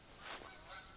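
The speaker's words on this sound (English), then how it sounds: "So I got some more geese coming in here." Geese honking as they fly in toward a hunting blind in the video game The Hunter, faint, distant calls that rise and fall briefly over hiss.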